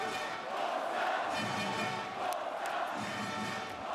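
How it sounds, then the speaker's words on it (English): Handball arena crowd at a European championship match, Poland against Russia, standing and chanting Polska: a dense, steady roar of massed voices filling the hall without a break. "Crowd are on their feet, chanting Polska as they have for much of the second half since this reawakening."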